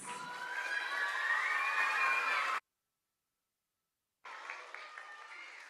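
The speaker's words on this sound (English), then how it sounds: "Can we have one more big round of applause?" Audience applause at a children's author panel for upper elementary grades, a dense burst of clapping with some cheering for about two and a half seconds, a brief silence, then more clapping resuming.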